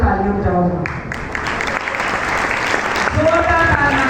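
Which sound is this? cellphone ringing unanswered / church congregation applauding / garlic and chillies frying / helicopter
church congregation applauding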